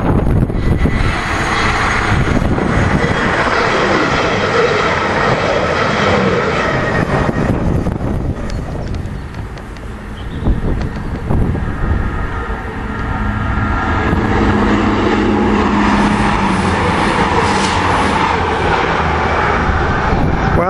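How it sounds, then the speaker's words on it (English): A loud Meridian passenger train bound for Corby rushing past close by, a sustained roar of engine and wheels that dips briefly midway before swelling again. "This is the Meridian going to Corby."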